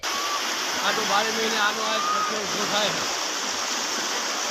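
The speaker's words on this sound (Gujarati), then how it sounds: "તળાવ પડી રહેલા વરસાદને કારણે રાત્રિ દરમિયાન ઓવરફ્લો થતા તળાવના પાણી ગામમાં ઘૂસી રહ્યા છે" Rainwater overflowing from a village lake in Ranasar near Chanasma, Gujarat, a steady rushing and splashing flow like a small waterfall, moderately loud and continuous, with faint voices in the background.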